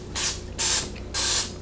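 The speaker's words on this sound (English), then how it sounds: "I'm just going to put a little cooking spray on it" Cooking spray hisses from an aerosol can onto a pan before chicken burger patties are cooked, three short, close bursts with brief gaps between them.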